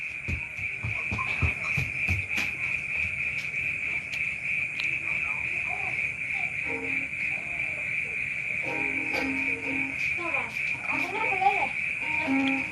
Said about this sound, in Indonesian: Itu bunyi jangkrik.